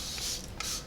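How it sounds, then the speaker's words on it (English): Two quick hiss bursts of hair product sprayed from a spray bottle during hair styling with cream gels, close and alone with no talk. "Spray this down a little bit more."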